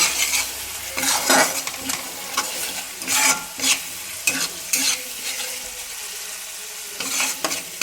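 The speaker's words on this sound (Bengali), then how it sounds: "এবার ভালো করে আমি মশলাটা কষিয়ে নেব।" Spice masala with red chili powder sautéed in a pan for methi chicken, heard as repeated close scraping strokes of a spoon over a soft, continuous sizzle.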